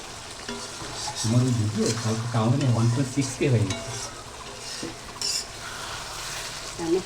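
Chicken kosha stirred and fried in a pot on a gas stove: spatula scrapes and sizzling with occasional metal clinks, with a voice speaking over part of it.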